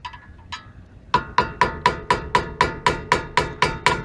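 A hammer striking a flathead screwdriver used as a chisel on the brake parts of a 1998 Honda Civic, a steady series of about a dozen sharp metallic ringing blows, close and evenly spaced.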